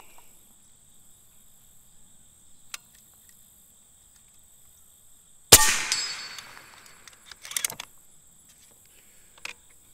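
GAMO TC45 and TC35 air rifle pellets strike steel targets outdoors, one sharp metallic clang followed by a fainter double ring a couple of seconds later, over quiet background with insects chirping.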